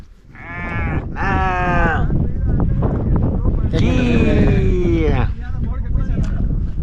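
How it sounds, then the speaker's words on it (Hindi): Ewe calling for her lamb in the Kashmir hills: two loud, close bleats at the start, then a longer wavering bleat, with wind buffeting the microphone throughout. "मैंने इस भेड़ के बच्चे को पकड़ लिया है और उसकी माँ दूर से शोर कर रही है"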